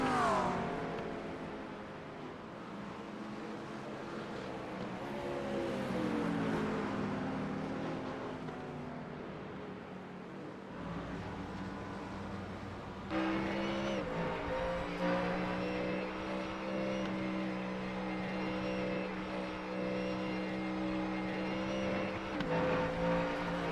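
Race cars, Mustangs and McLarens, accelerate at Mosport in a World Challenge round. Engines wail and rise through gear changes, one car fading before a louder, closer engine takes over with a sustained high-pitched roar.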